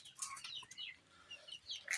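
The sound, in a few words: chickens clucking at home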